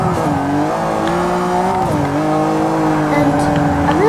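A Ferrari 575M engine roars loud and continuous while racing in Forza 6, its revs rising and shifting as it drives, with someone talking over it.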